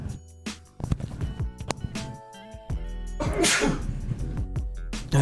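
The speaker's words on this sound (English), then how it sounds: "I think I gotta sneeze" A loud sneeze bursts out amid clattering, busy background noise, followed by some rustling and movement close by.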